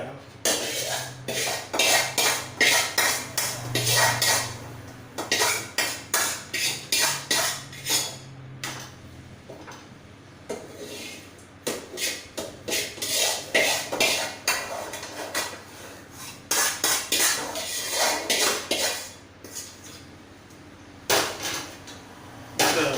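A spoon scrapes and clanks against a metal pot while stirring a rice and lentil pongal mixture, in repeated rhythmic bursts, clattering with short pauses between strokes.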